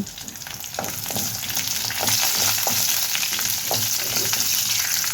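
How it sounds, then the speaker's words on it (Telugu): Chillies and other ingredients for a coriander tomato chutney fry in a pan with a steady, dense sizzle, crackling spits and occasional stirring scrapes, close and continuous with no talking. "ఇప్పుడు ఇవన్నీ శుభ్రంగా వేపుకుందాము"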